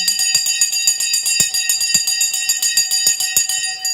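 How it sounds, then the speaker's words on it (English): An electric bell rings continuously for several seconds, its rapid, evenly spaced strikes close and loud, with no talking over it. "The bell has gone."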